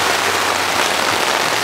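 Heavy rain pours down outdoors during a GS300 100k service, a dense, steady hiss of drops with no break and no voices.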